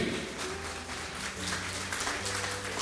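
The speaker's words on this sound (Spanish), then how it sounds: "Dale un fuerte aplauso al Rey." Applause from a congregation at a church worship service, a steady wash of clapping that continues throughout, with a faint low musical tone underneath.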